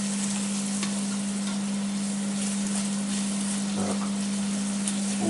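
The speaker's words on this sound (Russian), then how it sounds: "Лучок поджарили немножко" Onion frying in a pan, a steady loud sizzle with crackling spatter and occasional stirring scrapes, continuous and close throughout.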